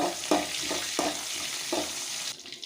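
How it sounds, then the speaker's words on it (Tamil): Green chili, curry leaves, ginger and garlic sauté in a pan with a continuous close sizzle, punctuated by a few rhythmic spatula scrapes as the mix is stirred; no talking. "இப்போ இது எல்லாத்தையும் வதக்கி நம்ம எடுத்துக்கலாம்."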